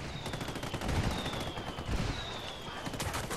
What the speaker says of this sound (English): I called Pacatari for some mortar fire.